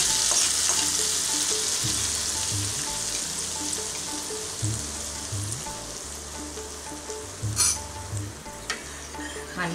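Fried coconut pieces are stirred into a simmering chana dal payasam, giving a steady close bubbling sizzle with repeated rhythmic scraping strokes and a few sharper clinks near the end.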